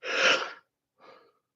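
A person yawns during a Lego building session, with one long breathy exhale followed after a pause by a shorter, softer trailing breath, close and alone with no talk.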